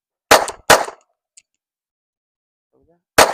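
Sharp gunshots from a Springfield Echelon 4.0C compact pistol, two close together then a third after a long pause, loud and near with quiet gaps between.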